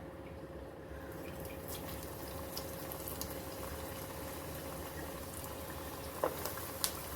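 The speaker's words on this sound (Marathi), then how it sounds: "हे बघा छान आपलं तेल तापलेलं आहे. आता आपण वडे सोडायला घेऊया." Black-eyed pea vadas frying in hot oil in a kadhai give a steady, even bubbling sizzle throughout, with a couple of brief sharper pops near the end and no voices.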